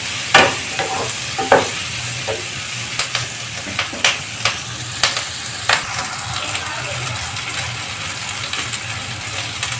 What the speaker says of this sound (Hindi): शिमला मिर्च ऐड करके अच्छे से इसको फ्राई करना है।